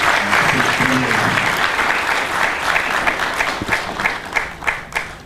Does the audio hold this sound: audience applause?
yes